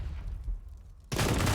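In a video game match, a burst of dense, loud gunfire breaks out suddenly after a quieter stretch of low rumbling ambience and continues as a sustained harsh crackle.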